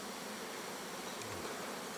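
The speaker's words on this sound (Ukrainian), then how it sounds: "це бджоли кудись летять" A steady, dense buzzing of a swarm of honeybees in flight at an apiary fills the air, an even insect drone without pauses or voices.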